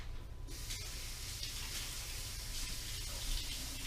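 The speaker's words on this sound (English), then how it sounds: "I'm going to wash my hands off." Water running from a tap while someone washes their hands, a steady hiss of flowing water with faint splashing and small clinks, moderately close, with no talking.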